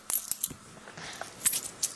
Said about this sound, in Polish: Mam tutaj cztery obojętnie jakie karty i cztery stare monety.